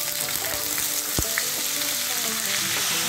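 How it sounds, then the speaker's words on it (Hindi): Potatoes shallow fry in hot oil, a dense continuous sizzle and crackle heard up close, broken by one sharp knock of a utensil against the pan. "पहले हम पोटैटोज़ को शैलो फ्राई कर लेते हैं"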